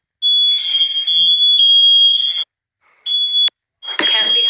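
A Nest smoke alarm sounds a loud, piercing high-pitched tone in long continuous bursts separated by short silent gaps, with a brief burst of voice-like noise near the end.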